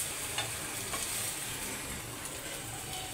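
Cheese bread omelette frying in oil in a home kitchen pan, a steady close sizzle with a few soft scraping and stirring taps and no talking.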